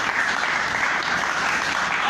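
A church congregation applauds in praise of God during a French-language sermon: dense, sustained clapping from many hands, filling the space evenly without pause.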